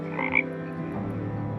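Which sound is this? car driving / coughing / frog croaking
frog croaking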